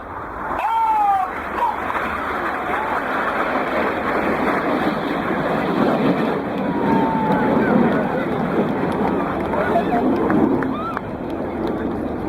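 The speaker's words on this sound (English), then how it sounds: "these 4 aircraft approaching at 800 miles an hour closure here are known as Jippo" Four RAF aerobatic jets cross each other at high closing speed during an air display at Bristol, producing a broad, sustained roar that swells and rushes past under a commentator's voice.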